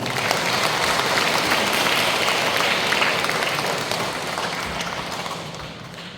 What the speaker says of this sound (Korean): 자, 박수로 맞이해주십시오.